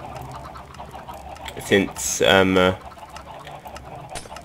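Minecraft chickens give a short burst of clucking squawks in the middle of the game. Someone talks over the steady game background.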